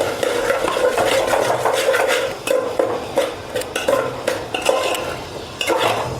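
Vegetables tossed with red chili powder, turmeric and salt in a metal pot for masala rice, loud continuous scraping and clinking of a spoon against the pot in quick uneven strokes, close up with no talk.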